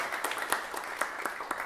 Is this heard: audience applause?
yes